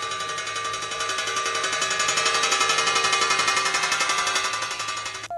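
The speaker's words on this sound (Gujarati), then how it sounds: "સોલાર પ્લેટની સાથે થાળીને ફિક્સ કરવામાં આવી છે અને તેના અવાજથી તીડને ભગાડવામાં આવી રહ્યા છે" A solar-powered contraption beats a metal plate in a crop field at Satlasana to scare off locusts. It makes a rapid, steady, machine-like clatter of closely spaced metallic strikes that stays loud for the whole stretch and has no talk over it.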